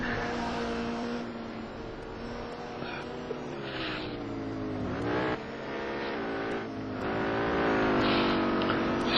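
A race car in the rFactor sim racing game at Road Atlanta, braking hard for the chicane, with a steady engine drone and shifting pitch as it slows, under a continuous broadcast-style mix.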